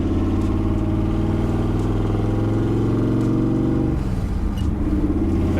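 A 1940 Ford hot rod with a 392 Hemi engine drives along in traffic, its deep, loud, steady exhaust drone holding constant before the pitch drops and eases off near the end.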